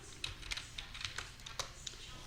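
Quick bursts of keystrokes on a computer keyboard entering a short terminal command, a handful of crisp taps heard close up over faint background hiss.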